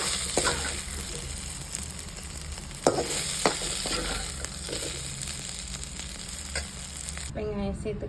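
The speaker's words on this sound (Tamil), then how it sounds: "இதே எண்ணெயிலே அந்த கட் பண்ணி வச்சுருக்க ஒரு வெங்காயத்தை போட்டு" Chopped onion sautéing in oil in a home kitchen pan while cooking a Tamil brinjal curry, a steady broadband sizzle with scattered spatula scrapes and stirring clicks, close and alone, cutting off near the end.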